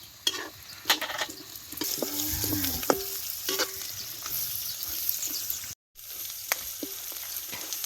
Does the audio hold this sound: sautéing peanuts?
yes